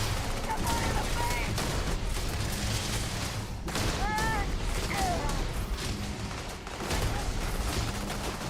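Rapid gunfire bursts in Starfield, loud volleys and scattered shots over a steady rumbling backdrop, with brief whistling tones and mechanical sounds mixed in.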